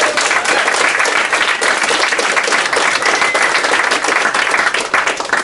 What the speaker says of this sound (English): give a round of applause to our actors.